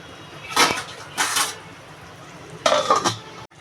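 A metal lid set over a cooking pot of pumpkin greens produces three bursts of loud, close metallic clattering and scraping, separated by quieter pauses, ending in a brief near-silence.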